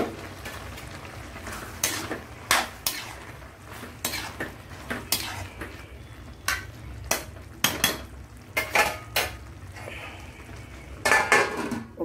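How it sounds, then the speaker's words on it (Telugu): Tomatoes tipped into a pan of cooking prawns and chana dal, then stirred with a utensil: repeated clanks and scrapes of metal against the pan at an uneven rhythm over a low sizzle, close and fairly loud, with no talking. "ఇగో టమాటీలు వేసుకుంటున్నాను."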